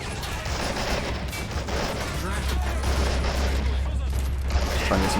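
Battle gunfire from the Army Men of War video game during a tank-division clash, dense and continuous bursts under steady rumbling combat noise, with faint speech mixed in.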